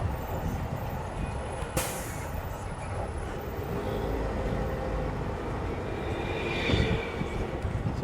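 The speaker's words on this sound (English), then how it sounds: "we're back on board the tram" Open-air tram rolling along at CocoCay, Royal Caribbean's private island, with a steady rumbling drive and rattle, a sharp hiss or squeal near two seconds, and a louder whine swelling near the end.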